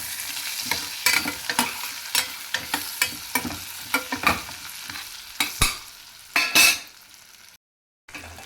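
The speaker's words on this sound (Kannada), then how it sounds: "2ರಿಂದ 3 ಸ್ಪೂನ್ ಜೀರಿಗೆ, ಒಂದು ಸ್ವಲ್ಪ ಗೋಡಂಬಿ ಮತ್ತು 2ರಿಂದ 3 ಹಸಿಮೆಣ್ಸಿನ್ಕಾಯಿ ಹಾಕಿ 2ರಿಂದ 3 ನಿಮಿಷ ಗೋಡಂಬಿ ಇದಾಗೋ ತನಕ ಫ್ರೈ ಮಾಡ್ಕೋಬೇಕು" Cumin seeds, cashews and green chillies fry in a pan for jeera rice, with a steady sizzle broken by repeated close spoon-scraping strokes, a couple of louder clatters near the end, then a brief silence.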